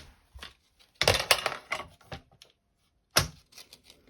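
A paper trimmer slices through card in a few sharp, close clacks and scrapes, with short quiet gaps between the cuts.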